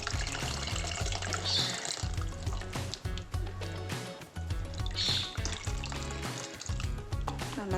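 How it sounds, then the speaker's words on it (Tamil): Tamarind water pours steadily into a hot, sizzling pan of sardine curry, a continuous splashing hiss nearby with brief swells as the stream shifts. "நம்ம புளி தண்ணி சேர்த்துக்கிடுவோம்."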